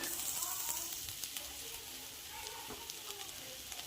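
Grated coconut with salt and turmeric frying in a pan, a steady close crackling sizzle with scattered pops throughout, fairly quiet.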